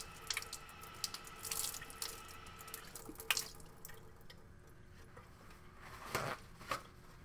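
Tap water runs and splashes as a rock thin-section slide is rinsed of grit, with quiet trickling, a few drips and louder splashy bursts near the start and end.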